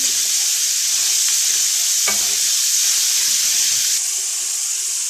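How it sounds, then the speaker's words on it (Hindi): Cumin and coriander powder are stirred in a hot pan of oil for fried chickpeas, with a loud, continuous sizzle and a few scraping strokes of the spoon close by. "जीरा पाउडर, धनिया पाउडर मिक्स करेंगे।"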